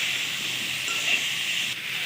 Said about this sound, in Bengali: খুব ভালো করে এটা ভেজে নিব।